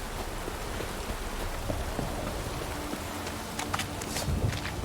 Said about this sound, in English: This downpour's a bastard, it is